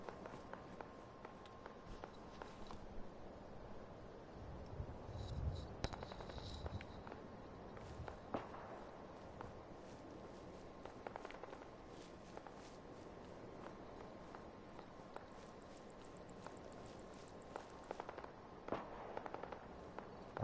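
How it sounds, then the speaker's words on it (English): Gunfire in the video game Fallout 4, faint scattered cracks and pops, some in quick bursts, spread irregularly over a low steady background with no talk. "That's a lot of gunfire."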